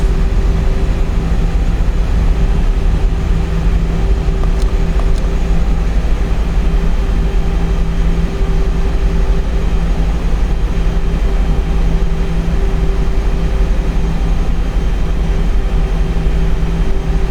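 An Airbus A320 in the X-Plane 11 flight simulator rolls for takeoff with a loud, steady engine roar and drone that holds for the whole stretch, with no talk over it.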